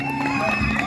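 A brief burst of crowd cheering and applause from an audience at a Bhogali festival program, dense and continuous.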